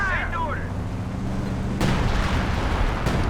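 Howitzer artillery fire in the Company of Heroes 2 strategy game, a loud booming shot followed by rumbling, then a second distant blast, over a steady battlefield din with someone commentating.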